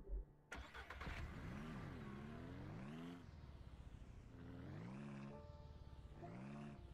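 A car engine in the video game Ranch Simulator starts with a sharp crank, then revs up and down in repeated rising and falling swells at moderate volume, with no voices.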